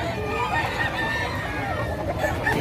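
Fighting roosters crowing amid a busy gamefowl and pet market in Bocaue, Bulacan, several birds overlapping in a dense, steady din with crowd babble underneath.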